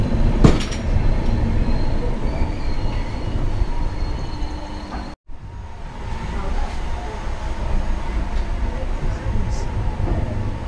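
A steady rumble of an 18006 Express train rolling along rails between Koraput and Rayagada, about 950 m above sea level, continuous and fairly loud, with a brief dropout midway and faint voices in the background.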